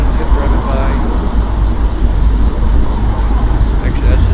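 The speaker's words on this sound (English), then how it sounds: "Actually, that's just a car." A car drives past outdoors at night, a loud, steady broadband roadway rumble filling the whole stretch under heavy background hiss.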